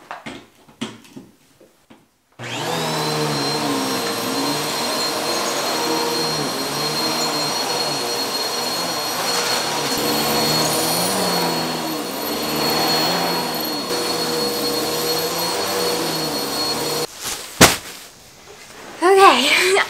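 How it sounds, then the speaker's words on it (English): Vacuum cleaner running while a room is cleaned, a loud steady whine and roar that starts abruptly and holds for about fifteen seconds, cut by a few thumps near the end. "I'm gonna vacuum up my room here really quick"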